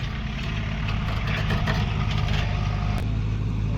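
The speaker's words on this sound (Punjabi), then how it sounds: "ਇਹ ਹੈ ਹਿੰਦੁਸਤਾਨ ਟਰੈਕਟਰ ਜੀ 453 DI ਡਬਲ ਕਲਚ" A heavy Hindustan 453 DI double-clutch diesel tractor engine idles steadily with a low, thumping rumble, close by and continuous throughout.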